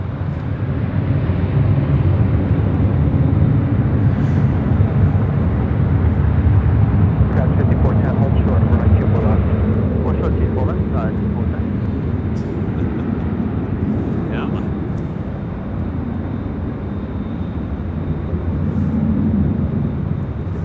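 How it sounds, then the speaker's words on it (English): A Delta Airbus A350-900 airliner at LAX gives off a loud, continuous broadband engine roar that holds steady across the whole stretch, with voices heard faintly in the mix. "we've got a Delta A350-900"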